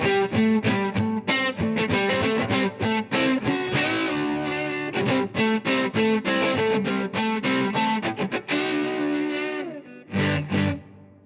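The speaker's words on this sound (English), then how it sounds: "Does that, kind of double track guitar effect thing." Distorted electric guitar through a Two Notes Torpedo Captor X with its twin tracker double-track effect, a busy, rhythmic riff of choppy chords and single notes, loud and close, ending with a couple of ringing hits, no talk.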